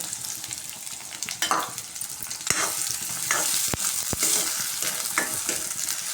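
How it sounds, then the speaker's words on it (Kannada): Finely chopped onion frying in oil for curry leaf dry chicken gives a steady, close sizzle, broken by scattered spatula scrapes and a couple of sharp clicks, with no voices. "ಇದು ಎಣ್ಣೆನಲ್ಲಿ ಫ್ರೈ ಆಗಲಿ ಚೆನ್ನಾಗೆ"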